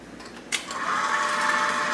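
A food processor blade beating bread roll dough, a sharp start after a quiet moment, then a continuous whirring motor drone, close and fairly loud.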